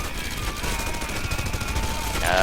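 Continuous rapid gunfire from a Red Faction: Guerrilla video game fight, a dense rattling stream of shots at steady loudness with no pauses, growing slightly heavier toward the end.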